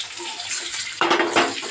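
Garlic and ginger dropped into hot oil in a pan, a soft hiss that jumps into a louder, bright sizzle partway through.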